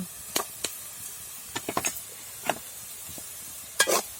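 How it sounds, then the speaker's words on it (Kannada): Food frying in a pan while kaltappa is being made, with soft, scattered scraping and stirring clicks over a faint, low sizzle. "ಸ್ವಲ್ಪ ಕೆಂಪಾಗಿ ಫ್ರೈ ಆಗಬೇಕು"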